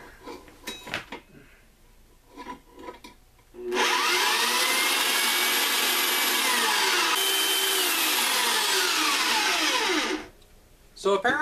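A bandsaw fitted with a Makita blade cuts into metal on a mud truck build, producing a loud, sustained screeching grind with shifting whining tones for several seconds, with brief bits of talk and clatter before and after.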